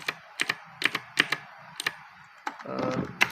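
Computer keyboard keys tapped in short, isolated clicks during a Bootstrap web coding session, about a dozen crisp presses spaced irregularly, close and clear, with a brief soft rustle near the end and no talking.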